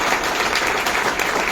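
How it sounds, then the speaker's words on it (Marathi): A crowd at a Solapur award function claps for Team Mohol in a short, loud, dense burst of applause heard close throughout. "टीम मोहळसाठी परत एकदा टाळ्या वाजवा."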